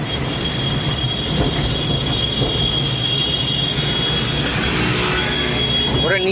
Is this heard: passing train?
yes